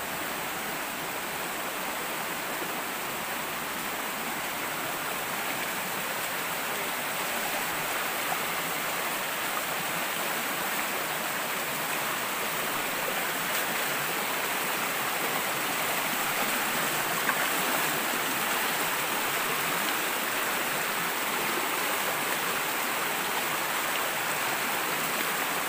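A river stream flows in a continuous, even rush of water, steady and fairly close throughout with no voices.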